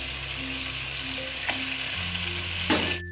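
Yogurt and ginger-garlic-chilli paste fry in a pan for mutton nihari, a steady close sizzling hiss with a couple of brief stirring scrapes.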